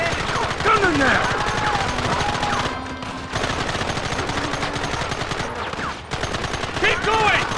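Dense gunfire in the video game Red Dead Redemption, rapid continuous shots and volleys rattling almost nonstop, loud and close, with a couple of brief lulls and shouted voices mixed in.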